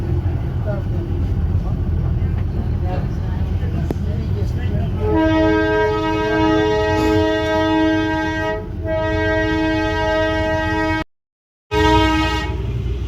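The Darjeeling toy train sounds a long, loud, steady whistle lasting several seconds over rumbling engine and rail noise, broken by a brief dropout before it resumes, with people talking at the start.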